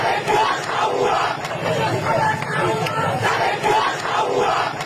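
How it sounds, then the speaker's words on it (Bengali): A street crowd chants a political slogan together, a dense mass of many voices rising and falling in steady rhythmic waves, loud and close throughout. "বাংলাদেশের রাস্তায় স্লোগান ওঠে, টিনের চালে কাউয়া, তারেক রহমান"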